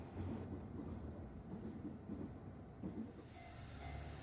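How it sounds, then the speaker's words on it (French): An old diesel railcar rolls along Japan's JR Geibi line, a steady low engine drone and rumble of wheels continuing evenly throughout, close and moderately loud, with no voices. "je me laisse porter un peu là, sur la ligne Geibi, dans mes vieux dieselcars préférés"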